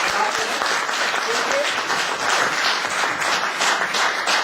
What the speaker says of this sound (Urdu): ان کو میں آپ سب سے گزارش کروں گا کہ تالیوں کے ساتھ ان کا شکریہ دوبارہ